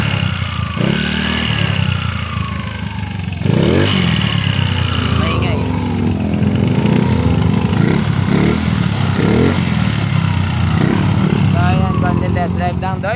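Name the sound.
Honda/Yamaha Mio 4 scooter engine running on test drive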